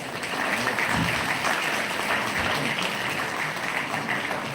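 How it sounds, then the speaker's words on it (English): Audience applause for a speaker at an institutional talk session, many hands clapping in a sustained, even roar that stays fairly loud from start to finish, with no speech on top. "Let us give a huge round of applause for our ma'am."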